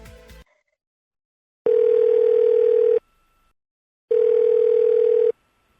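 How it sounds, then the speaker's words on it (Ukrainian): Two long, steady telephone tones separated by silence, loud and clean, following a brief scrap of sound at the start. "Телефоную до пані Олени."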